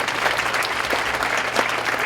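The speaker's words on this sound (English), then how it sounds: "Could y'all give her a hand clap for that, please?" A teen conference audience gives a round of applause, with close, dense clapping that holds steady and loud for the whole short stretch and no one speaking over it.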